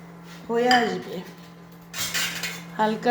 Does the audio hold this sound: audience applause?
no